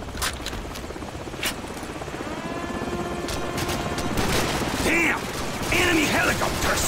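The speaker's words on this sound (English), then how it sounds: "Damn! Enemy helicopter!" Helicopter rotor chopping in the background amid mechanical clanks and scattered gunfire, with a voice shouting over the action, in Call of Duty 4: Modern Warfare.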